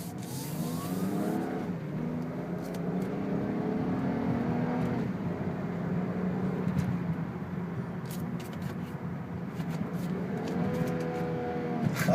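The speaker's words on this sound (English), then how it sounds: "Let me show you in a little acceleration run here." A 2006 BMW 325i with a six-speed automatic accelerating on a test drive, a steady engine drone rising in pitch through the gears with audible shifts, heard from inside the car.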